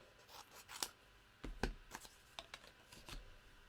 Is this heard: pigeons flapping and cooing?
no